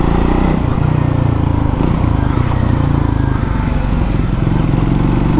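A Triumph Scrambler 400 X single-cylinder motorcycle engine chugs close by with a steady, thumping idle and a slight blip of the throttle, loud and continuous with no voices over it.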